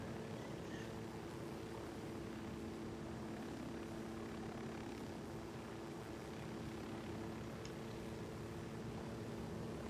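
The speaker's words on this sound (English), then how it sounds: "I don't think a helicopter is very safe." Helicopter in the video game Ghost Recon Wildlands, a low steady rotor and engine drone with droning tonal hum, continuous and fairly faint throughout.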